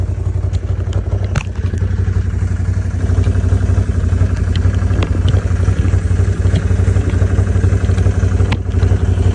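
A 2019 Can-Am Outlander 570 ATV engine runs steadily close by, a loud, continuous low rumble with rapid pulsing and occasional clicks and rattles over it.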